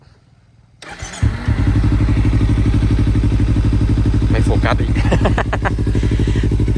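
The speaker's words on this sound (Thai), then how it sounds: "ฟังเสียงเครื่องยนต์กันนะครับ" A 2018 Kawasaki Z300 SE motorcycle with 32,000 km on it starts up with a brief crank, then settles into a loud, steady, close idle with an even pulsing rhythm, while someone speaks briefly over it.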